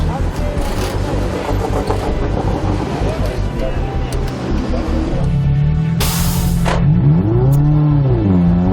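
A Subaru STI race car driving in and out of the pits, its engine roaring loudly and shifting pitch as it accelerates past, with a sharp burst of noise and rising revs near the end.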